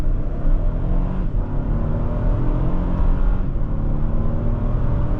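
A 2025 Toyota Tundra V6 under hard acceleration, a loud sustained engine drone with rising harmonic tones heard from inside the cab, continuous with no talk.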